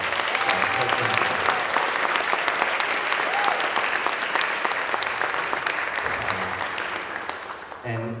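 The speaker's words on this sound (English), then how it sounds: "Let's have a big round of applause for our co-principals." An audience at a school instrumental music concert applauds the co-principals with steady, loud clapping, many hands together, holding strong for several seconds before tapering off near the end.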